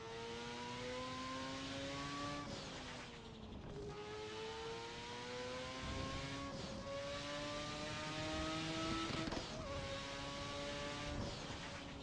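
Race car engines roar loudly and continuously in a racing video game played on a wheel, revving up through the gears with sharp drops at each shift, several cycles of acceleration heard up close.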